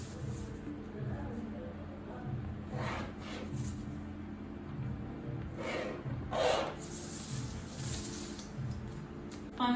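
A pen or marker rubs and scratches across paper while a basic skirt pattern is marked out, soft intermittent strokes over a faint steady background hum.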